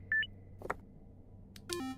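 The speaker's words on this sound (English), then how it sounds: "They go beep." A few quick electronic beeps and a falling two-tone blip from the video game Ghost Town Pumpkin Festival, sparse and close against a quiet background hum.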